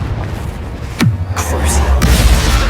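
Confringo blasting spells go off in Hogwarts Legacy, a sharp whooshing zap followed by loud booming impacts, one after another, with a voice casting over the action.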